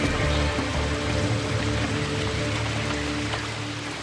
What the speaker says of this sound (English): rain falls almost every day